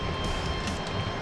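Edinburgh tram in motion, a steady low rumble of wheels and running gear heard from inside the car, continuous and moderately quiet with no voices.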